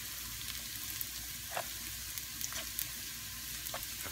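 Onions fry in a pan ahead of liver and onions, a soft continuous sizzle with scattered small crackles and pops, fairly quiet and close, with no talking.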